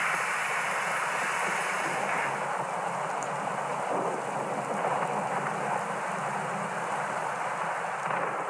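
A thunderstorm on the open Pampa plain of Argentina, with heavy rain hissing in an unbroken wash and low thunder rumbling beneath, steady and fairly loud for the whole stretch.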